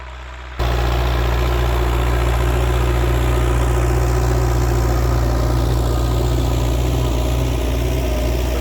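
A tractor pulling heavy harrows across a field rumbles loudly and steadily from start to finish, with a deep, even drone and a faint clattering texture on top.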